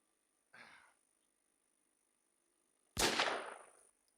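Two separate gunshots from a video game ring out a couple of seconds apart. The first is fainter and the second is louder with a booming tail, and the gaps are otherwise quiet.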